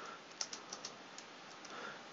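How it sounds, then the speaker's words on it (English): Computer keyboard keys pressed a handful of times, including the space bar used to make a game character jump, as a series of quiet, separate clicks spaced irregularly over steady low background hiss. "the keyboard input still works, and I can hit the space bar for jumping"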